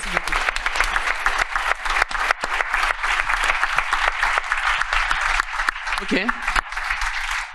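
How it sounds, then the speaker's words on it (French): Sustained applause from a conference audience at a round-table on the legacy of the Olympic and Paralympic Games, dense and steady throughout with a brief voice rising near the end. "c'est un tonnerre d'applaudissements pour le tournoi que tu vas avoir en Corée à partir de la semaine prochaine"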